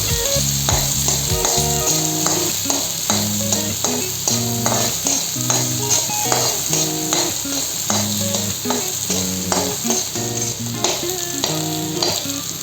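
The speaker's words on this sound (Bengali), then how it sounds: "এখন দিয়ে দিব আলু আর তেজপাতা, একসাথে দিয়ে কিছু সময় ভেজে নেব।" Potato chunks and bay leaves fry in a pan for a Bengali katla fish-head muri ghonto, a steady sizzle under repeated stirring and scraping, with music running throughout and no talk.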